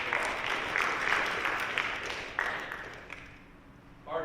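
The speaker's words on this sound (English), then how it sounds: "So let's give them a round of applause." Applause from an audience at a high school football awards night honoring the freshman coaches: a soft, fairly distant patter of clapping that fades away over a few seconds.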